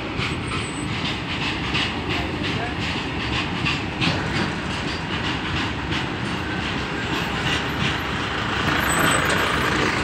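Long freight train of a hundred-plus wagons passing Bhandaridah railway station near Bokaro, Jharkhand, a continuous rolling rumble with rhythmic wheel clatter and brake hiss, close and steady throughout.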